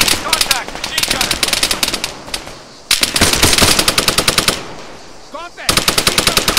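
Enemy machine gun fire in the military shooter Arma 3 rattles in long, rapid, loud bursts with brief gaps between them, and a voice is heard at times.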